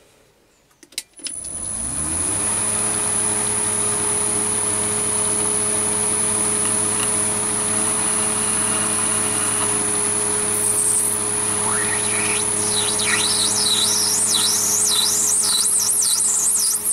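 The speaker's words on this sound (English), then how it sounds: "I'm using the same 45 degree HSS tool again, just to plunge straight in" A small Chinese mini lathe spins up with a steady motor hum, then a 45-degree HSS tool bites into acetal plastic, adding thin rising and falling squeals over the drone.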